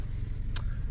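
A car engine rumbles steadily nearby with low road noise as a car pulls out at an RV lot and mobile home park in Juno Beach, Florida, a brief higher whoosh passing partway through.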